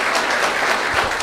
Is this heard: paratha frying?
no